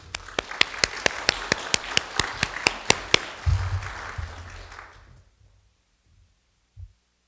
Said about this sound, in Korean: 우리 김기성 목사님 나오실 때 우리 박수로 환영합니다